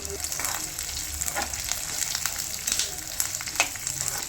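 Garlic, ginger and green chillies frying in hot oil, a steady crackling sizzle with occasional sharper pops, fairly quiet and continuous with no voices.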